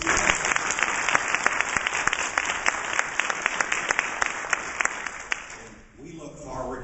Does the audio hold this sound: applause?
yes